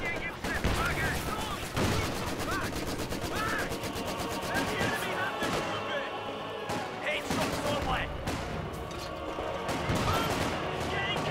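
Continuous gunfire in Company of Heroes 2, with British forces fighting German OKW troops: rapid machine-gun bursts and rifle shots crackle throughout, mixed with other battle sounds and talking voices.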